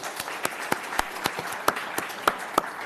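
Scattered applause at a school district board meeting, individual claps sounding sparse and uneven, moderately close in a quiet room, with no one speaking.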